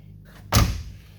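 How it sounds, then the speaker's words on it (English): A car door on a Rocco pickup shuts with one solid, deep thud, close by and loud, fading quickly into a quiet interior. "the doors close so nice in this thing"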